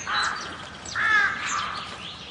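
Crows caw in a Hindi horror audio drama, two or three harsh calls close by with a longer, louder caw in the middle, and no voices.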